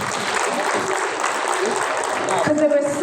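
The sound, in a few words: audience applause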